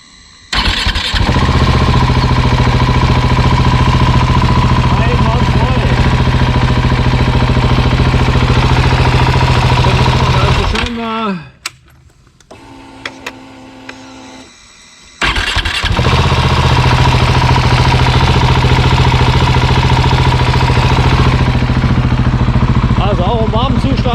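A freshly rebuilt Husqvarna 701 Enduro single-cylinder engine idles warm outdoors with a steady, even thump, then is switched off into a few seconds of near quiet with small clicks, and restarts straight back to a smooth idle.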